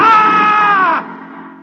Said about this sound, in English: woke up screaming.